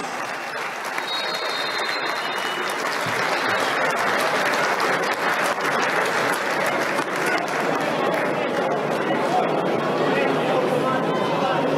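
A large stadium crowd applauds at the kickoff of a football match against Unirea Slobozia, steady loud clapping filling the whole stretch with faint crowd chatter mixed in.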